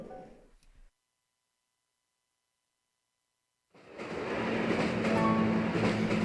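A train rides along rails in the video game Animal Crossing: New Leaf. After a short fade and a few seconds of silence, a steady rolling rumble with faint rhythmic clatter comes in and holds at moderate loudness.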